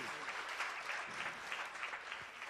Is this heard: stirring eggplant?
no